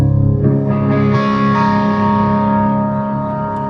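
A Chapman electric guitar with an alder body, bolt-on neck, Bare Knuckle War Pig bridge pickup and '59 neck pickup plays loud, distorted sustained chords through effects, ringing out and slowly fading with no talk.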